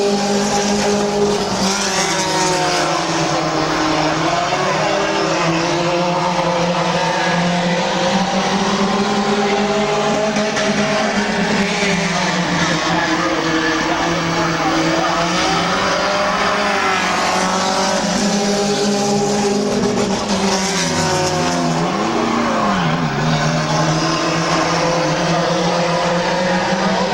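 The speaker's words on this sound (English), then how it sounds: "Cars out there racing." Race cars roar around the oval at Midvale Speedway, a continuous loud wall of engines with rising and falling pitch as the pack passes close by.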